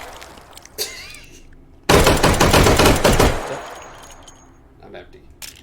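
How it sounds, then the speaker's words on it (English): Two pistols fired akimbo in the VR shooter Hot Dogs, Horseshoes & Hand Grenades: a loud, dense burst of rapid shots lasting about a second and a half, followed by metallic clinks and faint mechanical handling. "Double the guns, double the fun."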